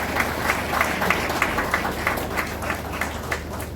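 Steady applause fills the room for the head of cricketing operations and the governing council at a Panjim Gymkhana event, a dense continuous patter of many hands with a few sharper claps standing out.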